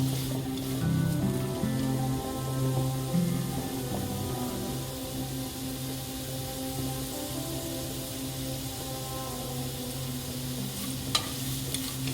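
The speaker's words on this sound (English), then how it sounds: "I'll also add a pinch of salt inside and fry this about 5 to 7 minutes, for carrot is harder than green pumpkin" Carrots with a pinch of salt frying in a pan for a Korean soy sauce noodle dish, a steady soft sizzle with occasional scraping stirs, close and fairly quiet, no talking.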